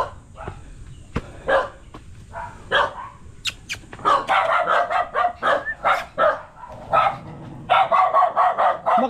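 A dog barks repeatedly outdoors at an old tourist spot in Tanay, with sharp, irregular barks that grow denser and louder partway through, alongside a few yips and faint bird calls.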